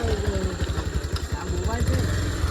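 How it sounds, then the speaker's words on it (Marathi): A motorcycle rolls up and settles into a steady low idle on a night outing in rural Konkan, its engine throbbing close by under loud, ongoing voices. "त्यापैकी आपली तिसरी बाईकसुद्धा आले आता आपण निघूया"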